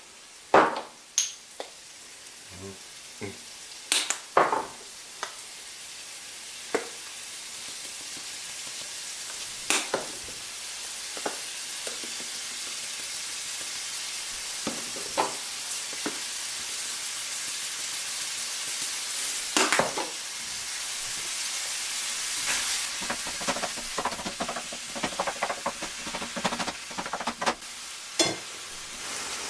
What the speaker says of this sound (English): Now you can hear the meat is being browned right now,